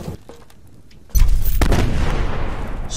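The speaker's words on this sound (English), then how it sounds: "Straight away with the grenades. And the Molotov. And another grenade. And another grenade." Grenade blasts in the survival video game Subsistence: Pond Life, a sudden loud boom followed by a sustained roaring rumble that lingers to the end, with no voices.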